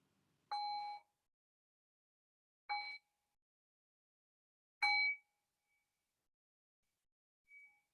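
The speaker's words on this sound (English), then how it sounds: "I'll ring the bell to close out this session." A meditation bell is struck three times, at close range, to end a session. Each clear, ringing tone fades quickly into silence, and a faint fourth tone comes at the end.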